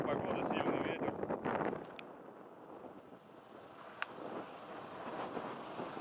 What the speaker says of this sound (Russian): Ужасная погода, сильный ветер.